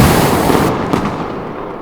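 Fireworks and rockets burst in the Firework sim PC game during a Diwali display, a dense crackling barrage of explosions that thins out toward the end, loud and without speech.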